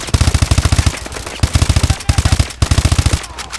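Automatic weapon fire in Call of Duty Advanced Warfare: loud, rapid bursts of gunshots in several rhythmic volleys separated by brief pauses, close and dominant.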